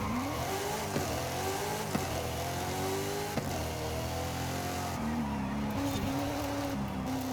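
A GMC Typhoon truck engine in Forza Horizon 5 races along, revving up and down through repeated gear changes in a continuous loud drone.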